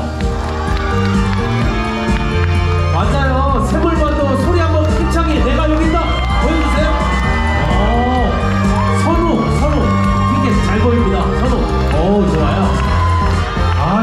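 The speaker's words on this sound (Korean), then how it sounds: "사랑의 박수로 입장시켜 주십시오" An audience at a kindergarten recital cheers and claps as five-year-old children walk onto the stage, a loud, continuous crowd din full of excited shouts over steady background music.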